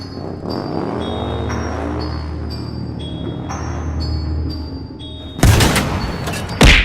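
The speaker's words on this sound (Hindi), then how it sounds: "तभी टैंक की गोली चल जाती है।" A loud cartoonish tank cannon blast bursts in near the end after a stretch of music, followed by a second booming hit.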